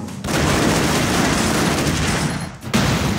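A sustained burst of rapid gunfire and explosive blasts in the video game Broforce, loud and dense, cutting off briefly before another shot rings out.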